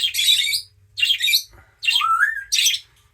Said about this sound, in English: Yes, the birds.